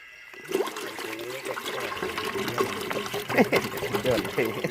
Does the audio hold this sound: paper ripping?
no